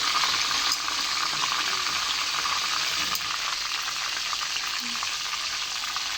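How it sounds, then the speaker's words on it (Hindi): Meat roast frying in a pan to take on colour before steaming, a loud steady sizzle with bubbling and occasional stirring clicks, no speech. "सिर्फ कलर देने के लिए थोड़ा सा फ्राई करना है, वैसे ये स्टीम में सारा पकेगा।"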